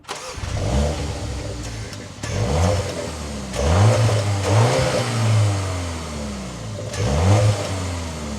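A 2025 BMW M235 xDrive Gran Coupe engine starts and is revved repeatedly, several loud swelling blips rising and falling over a steady idle, close and with no talk.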